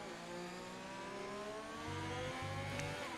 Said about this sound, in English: Oh, listen to the car.